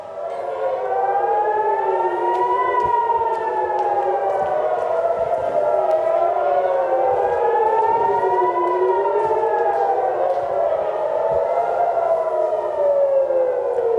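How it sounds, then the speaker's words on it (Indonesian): An air raid siren wails steadily in Haifa, its pitch rising and falling in slow repeated cycles, loud and sustained throughout with no voices. "Suara sirene dan ledakan terdengar di kota Haifa."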